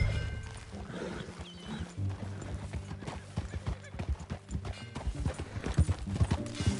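Galloping horse hooves pound in rapid clip-clop rhythm during riding in the Red Dead Redemption 2 video game, with a horse's whinny and game music layered over the loud, busy hoofbeats.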